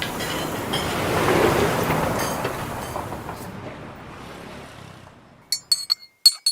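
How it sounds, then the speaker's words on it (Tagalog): Drinking glasses and a water pitcher set out, with a rushing, rumbling wash early on that fades. Near the end come a quick run of bright glass clinks and knocks close by, with no talking. "sandali Ami, maglabas ka nga ng baso at pitchel dito, tubig nila."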